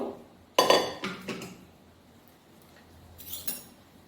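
Metal pots clink and clatter as a pressure cooker is pulled out in a home kitchen for making chicken tandoori, several sharp close knocks in quick succession, then quiet and one more rattling clank.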